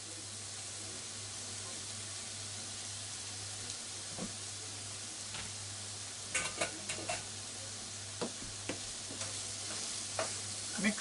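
Onion being stirred in a hot frying pan gives a steady soft sizzle, broken by several sharp scraping clicks of the utensil against the pan toward the end.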